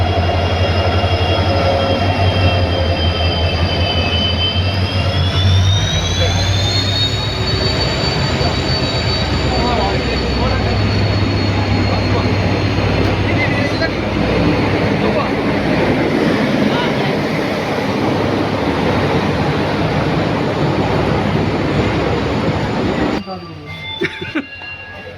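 A Vasco Express passenger train pulls into a station on the way to Goa, a loud continuous rumble of wheels and carriages with a rising squeal and steady clatter, filling the whole stretch before cutting off near the end.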